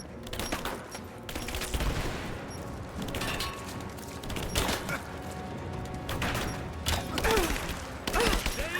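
Video game gunfire from Rise of the Tomb Raider in a combat scene, with irregular bursts of shots and bangs over a busy background of effects and music, with no clear speech.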